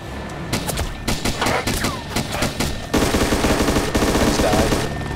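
Rapid video game gunfire, with bursts of automatic shots rattling loud and close in quick succession before turning into a dense continuous fusillade.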